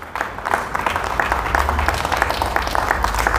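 Steady audience clapping at an LIC employees' gathering honors a colleague for completing a PhD in finance. Individual claps stand out rhythmically throughout the clip at moderate volume with a faint crowd murmur.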